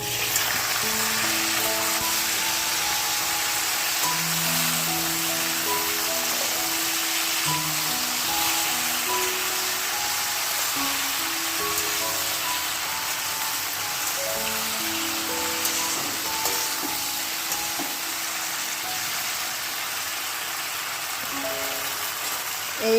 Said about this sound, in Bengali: এই যে কুলগুলো এই তেলের মধ্যে ছেড়ে দিচ্ছি